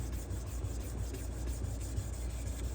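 A knife blade rubs steadily back and forth across a 600 grit sharpening stone on a Tsprof sharpening system, making a continuous close gritty rasp with an even rhythm and no talking.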